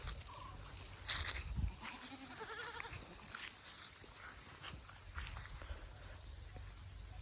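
Goats and sheep with their young bleat at a small, deep water spot in a village field, faint and scattered calls over steady outdoor background noise with a brief louder knock.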